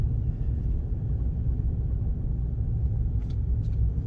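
A vehicle rolls slowly through a campground at DeGray Lake Resort State Park, giving a steady low engine and tire rumble that holds evenly throughout with no talking.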